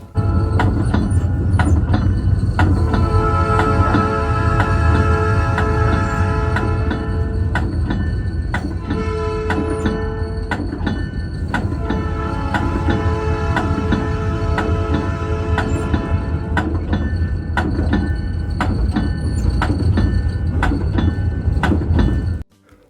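Locomotive 5730 of the Port Harbor Railroad heard from inside the cab, a loud, steady diesel rumble with droning engine tones that shift slightly over time, continuous with no talk.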